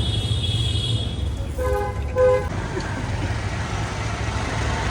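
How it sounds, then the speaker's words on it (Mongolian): A vehicle horn in Indian street traffic gives a clear, tonal honk of about half a second near the middle, over a steady low rumble of road noise. "ёо ямар амар сигнал юм бэ"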